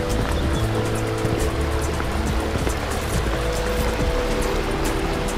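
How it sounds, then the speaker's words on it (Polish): Rushing water with a steady, even hiss like a mountain stream, continuous and fairly loud, mixed with a low rumble, with no one speaking. "Słyszysz, jak szumi? Jak taki strumyk gdzieś w górach."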